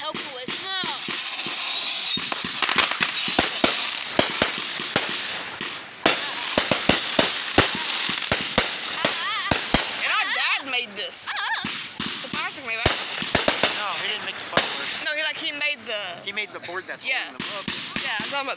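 Rapid, irregular bangs and sharp cracks of firecrackers and fireworks burst nonstop, with people talking and calling out under the barrage.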